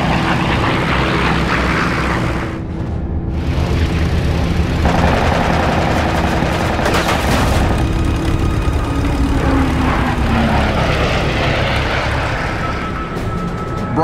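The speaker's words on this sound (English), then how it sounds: "The Mustang's 6 Brownings deliver a third kill for the day." Six Browning machine guns on a P-51 Mustang fire in a wartime dogfight at about 10,000 feet, bursts of gunfire over a steady loud propeller-engine drone, with a brief dip and sweeping aircraft sound partway through.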